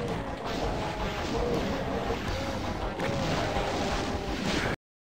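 Shotgun blasts and heavy gunfire from the DOOM video game, Thy Flesh Consumed episode on Xbox 360, forming a loud, dense, continuous barrage of booming shots and crashes that runs steadily for nearly five seconds, then cuts off abruptly.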